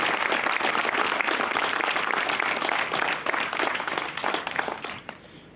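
Crowd at a 70th anniversary gathering applauding, loud steady clapping from many people that thins out and fades to a few scattered claps before stopping.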